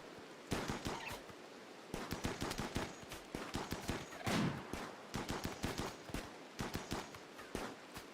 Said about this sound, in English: They're firing assault rifles.